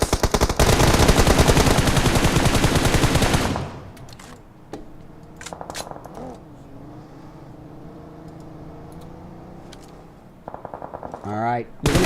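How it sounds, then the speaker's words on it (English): Rapid, loud automatic M46X gunfire in the PUBG Mobile video game bursts continuously for several seconds, then gives way to quieter game sounds and commentary before short bursts of shots return near the end. "We see Hasiko firing away, M46X in hand with a great recoil control there."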